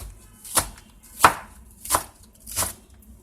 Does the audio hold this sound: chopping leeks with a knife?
yes